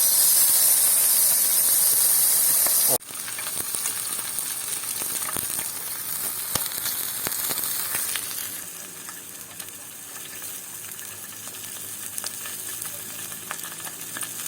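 Pork sizzles loudly on a hot Korean grill pan with an oil drain. A sharp burst of hiss drops off after a few seconds, leaving a steady, crackling fry up close.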